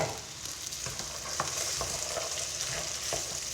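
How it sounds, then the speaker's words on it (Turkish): Fresh borlotti beans added to fried potatoes in a hot pan, a steady moderate sizzle under repeated light scraping and clatter of a spoon, heard up close without speech. "patatesi de kavurduktan sonra üzerine şöyle yaş barbunyamızı ekliyorum"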